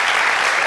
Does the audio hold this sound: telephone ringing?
no